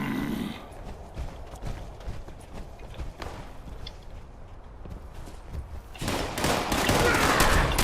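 Gunfire crackles in Fallout 76 during a rooftop firefight, with scattered shots and bursts over game ambience that swell into a loud, dense volley near the end.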